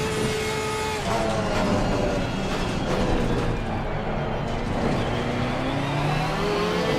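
A Porsche race car in the Assetto Corsa racing game, its engine note rising and falling through gear changes at steady loudness, with no talk over it.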